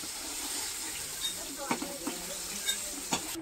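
Pointed gourd (potol) frying in oil, a soft low sizzle and hiss with a few clinks and scrapes of a spatula lifting pieces from the pan, close by and fairly quiet.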